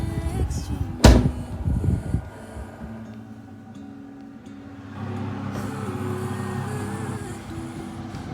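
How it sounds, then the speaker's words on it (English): A kitchen oven door bangs once sharply as a tray of egg-washed scones goes in, followed by rattling handling and then a steady low oven hum. "I'm going to put that in the oven now."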